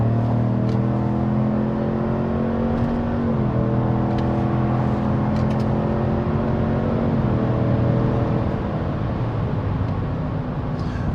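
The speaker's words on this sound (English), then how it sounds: "Now let's just test some power in this Denali pickup so I can show it to you how the vehicle is going to handle on the road" A 2026 GMC Sierra 1500 Denali pickup accelerating on the road, heard from inside the cab: a loud, sustained engine drone rising in pitch through the gears, with one clear shift partway through and road noise underneath.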